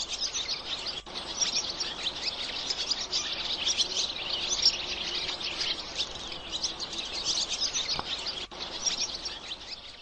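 Swallows singing on wires in spring countryside in Herefordshire and mid Wales: continuous bright twittering chatter from several birds, steady and fairly close, with no voices.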